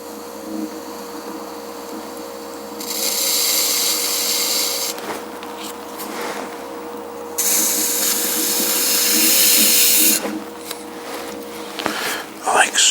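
A trimming tool shaves the bottom of a clay pot on a spinning pottery wheel, giving a steady, loud scraping hiss in two long passes over the wheel's constant hum, with faint rubbing in between.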